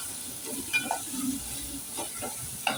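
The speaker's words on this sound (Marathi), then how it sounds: "आता हे सगळं आपण परतवून घेऊया." Ground masala paste for a pomfret curry being sautéed in a pan, a low hiss of frying under occasional scrapes and clinks of a stirring spoon, close and quiet without talk.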